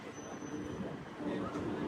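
A train on the Visakhapatnam–Araku line, just departed Simliguda station, rumbles with a steady low rolling drone heard from inside the carriage, growing slightly louder toward the end.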